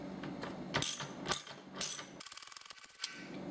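A ratcheting socket wrench loosens a small T15 bolt on the center dash of a 1994–1998 Ford Mustang, giving a few close metallic clicks and then a rapid burst of fine ratchet ticks.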